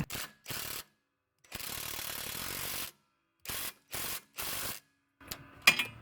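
Ratchet wrench tightening a bolt on a Volvo S60 rear control arm, several close bursts of rapid metallic clicking separated by pauses, ending with a few sharper clanks.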